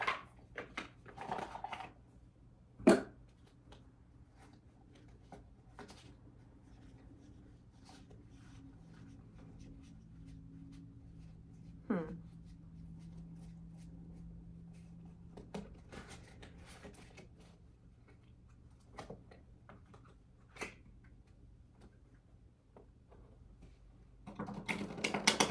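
Slippery tarot cards are shuffled on a floor, producing soft, quiet scraping and sliding with occasional light taps and slaps, close by and alone in a hushed room.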